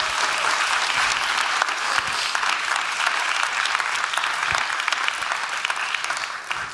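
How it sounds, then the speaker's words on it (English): Broad, steady applause fills the hall at a summit as the audience claps for the competition finalists, a continuous dense wash from start to finish. "Let's give them all a big round of applause."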